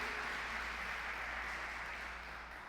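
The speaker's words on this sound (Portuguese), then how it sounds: "dê uma salva de palmas para Ele" A church congregation claps in praise during a sermon, a dense wash of applause from many hands that stays fairly even and fades slightly toward the end, with a low hum beneath.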